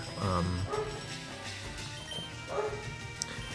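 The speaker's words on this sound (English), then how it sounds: "And sorry, that's my dog." A pet dog yips and barks a few times in a home while someone plays Pokémon LeafGreen, the short bursts coming close to the microphone at a moderate level over a faint background.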